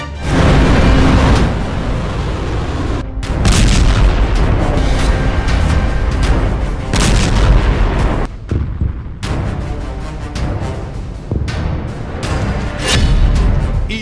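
Ballistic missiles strike a US base in Qatar with loud, rumbling booms and blasts that roll continuously, broken by brief lulls and followed by renewed heavy bursts.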